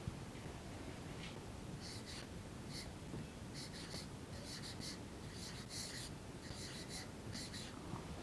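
A pen scratching out the word Srinagar beneath a number line on paper, soft intermittent strokes in short bursts over a steady low background hum.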